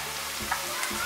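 Onion with cumin fries in a pan, a soft steady sizzle with a few faint stirring scrapes over about a second.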